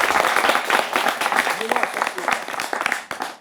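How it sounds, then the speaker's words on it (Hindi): Studio audience applause at a Hindi current-affairs television debate on terrorism, a dense wash of clapping lasting a few seconds with a voice talking over it, fading out at the end. "ताली बज सकती है।"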